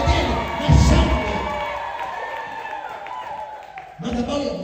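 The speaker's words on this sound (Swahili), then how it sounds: "Walionielewa wampigie makofi na vigelegele na shangwe." A church congregation bursts into loud applause, cheering and ululation, swelling sharply at first, easing off, then rising again in a fresh burst near the end.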